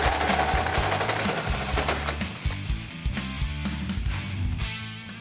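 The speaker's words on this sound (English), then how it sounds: "Using a 2-inch hole saw, we marry ourselves to this position." A 2-inch hole saw drills into a steel roll cage on a Ford Ranger prerunner, giving a loud, continuous grinding chatter with rhythmic juddering throughout.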